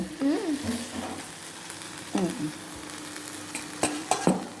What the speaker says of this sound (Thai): อันนี้รีวิวแผนกย่างแผนกย่างนะคะย่างหมู